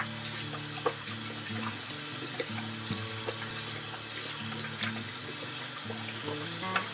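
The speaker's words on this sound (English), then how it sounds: "Wash my hands off." Tap water runs steadily into a sink as soapy hands are rinsed under the stream, a close, continuous splashing with small irregular splatters and no talk.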